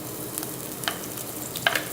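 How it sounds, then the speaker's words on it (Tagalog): Onion frying in a pan for chicken sopas, a steady low sizzle with faint crackles and a couple of brief clinks, fairly quiet and without talk. "Hayaan lang muna natin maluto yung sibuyas."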